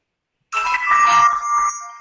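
A phone ringtone chimes loud and close, a bright melodic tone that holds steady for about a second and a half before fading slightly, with no voices over it.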